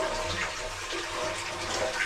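Water gushing out of a blocked drain pipe on a farm, a loud, steady rushing flow that stays close and unbroken throughout.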